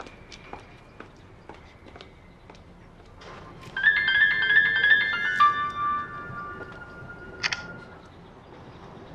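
A phone ringtone chimes for a couple of seconds amid footsteps, then fades as the steps continue.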